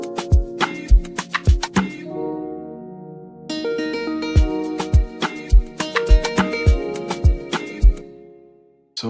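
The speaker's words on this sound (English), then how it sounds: "So I played this guitar from Nexus." Guitar patch from the Nexus synth plugin, shaped with subtractive and adaptive EQ and a compressor, playing plucked chords and rhythmic strums with sharp percussive attacks across about nine seconds, close and fairly loud with no talking.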